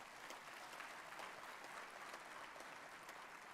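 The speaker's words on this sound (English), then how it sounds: "let's clap for the institution also" Hall audience at a valedictory function applauds the institution, a faint, even wash of many hands clapping without pause from start to finish.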